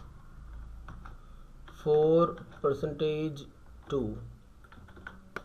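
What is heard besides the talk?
typing on a computer keyboard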